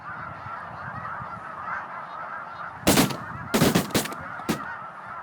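Migrating snow geese honk in a few loud bursts close by, standing out against a steady distant hum of the flock for the rest of the time.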